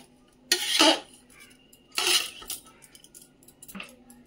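Vegetables being mixed into salted rice in a pot: a few bursts of spoon scraping and clinking against the metal, separated by quieter pauses, close up.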